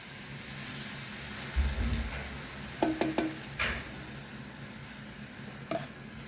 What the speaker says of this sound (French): On a mes lardons en train de suer un peu. Maintenant on va rajouter la crème.